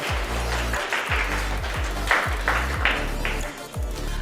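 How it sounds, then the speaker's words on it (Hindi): A school audience at a student quiz challenge applauds a student with steady, moderately loud clapping. Rhythmic low bass thumps from background music run underneath throughout. "इनके लिए एक ज़ोरदार तालियां बजाइए आप लोग"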